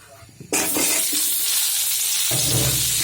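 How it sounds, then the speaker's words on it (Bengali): Boiled bananas go into a hot pan with oil, where a loud, steady frying sizzle starts suddenly and carries on without a break, joined by a brief stirring scrape near the end. "তো এখন আবার একটু ভেজে নিই স্বাদটা বাড়ার জন্য"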